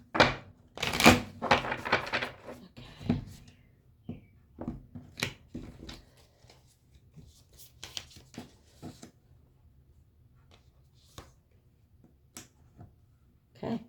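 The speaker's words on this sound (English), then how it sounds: "One more shuffle." A Nightmare Before Christmas tarot deck is shuffled close by in quick papery riffles and taps, busiest at first, then thinning into scattered soft clicks.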